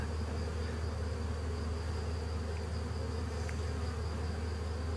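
A steady, dense buzz of many honeybees at the hive, close by, continuous and even throughout with no voices.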